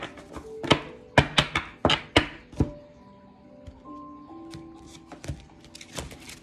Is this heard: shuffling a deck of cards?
yes